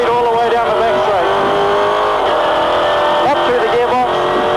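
A V8 touring race car at Pukekohe in the 2004 NZ V8 Touring Car Series accelerates hard down the back straight, its engine note rising steadily and loud, with a voice talking over it.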